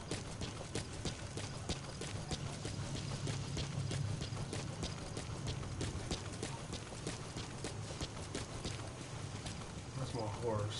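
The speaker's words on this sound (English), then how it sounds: "That's my horse." Horse hooves clip-clop in a steady, fast rhythm from a mount in the Metal Gear Solid 5 video game, quiet and continuous under a broad background hiss.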